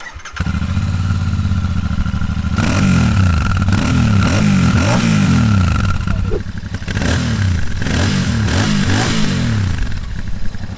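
A Royal Enfield 650 motorcycle engine idles with a deep throbbing exhaust through silencers, then revs up loudly several times in repeated rising and falling bursts.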